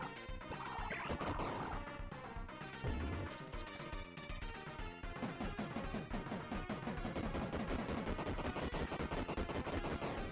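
Retro video game gunfire from newly bought guns in Metal Max Returns, dense rapid bursts of chiptune-style shots and crashes layered over game music, loud and continuous.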